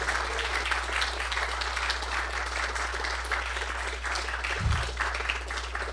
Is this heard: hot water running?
no